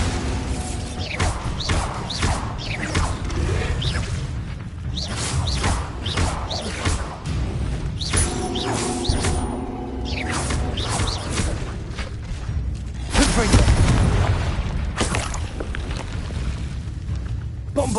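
Bombarda spell blasts in Hogwarts Legacy, a run of heavy booming impacts and crashing debris repeating through busy game sound, with one louder blast late on.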